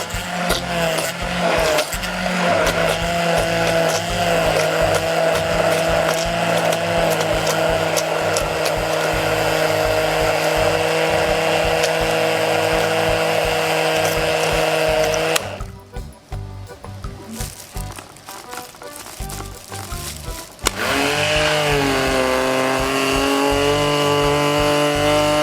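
A handheld electric mixer whips a homemade shampoo mixture, a loud steady motor whir that runs continuously, cuts out briefly, then starts again with rising pitch.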